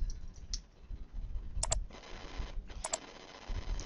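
Clicks on a computer while changing a password, two short bursts of close, sharp double clicks over a steady background hiss, no talking.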